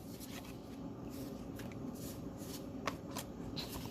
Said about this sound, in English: One more shuffle and we'll get right on into it